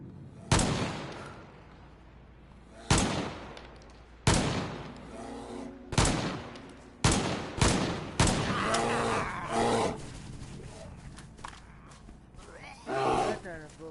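DMR rifle fire aimed at a bear in a video game: a string of loud, evenly spaced single shots with sharp attacks and short decays, followed by a messier stretch of lower rumbling sound.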